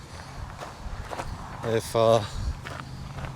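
Footsteps crunch along a short walk to a surf fishing spot on a windy Los Angeles beach, a few close steps with a louder pair near the middle while someone talks over them.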